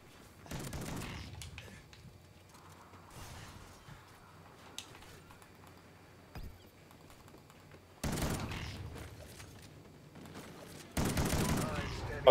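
Gunfire bursts in Call of Duty Ghosts, Cranked mode on Xbox One with a Bulldog shotgun, loud volleys at the start and again near the end with quieter game sounds between.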